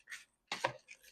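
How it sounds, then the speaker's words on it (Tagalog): Rice being mixed in a pan while cooking eggplant with rice: a few brief, quiet scrapes and clinks of a utensil against the pan, close by, with silence between them. "Mix lang po natin ang ating rice."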